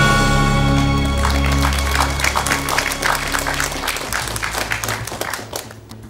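Studio audience at a television show applauding, a dense burst of clapping that starts over a fading musical chord, stays loud and close, then thins out and tapers off with scattered claps.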